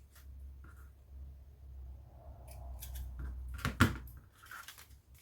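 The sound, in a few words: scissors snipping frayed bits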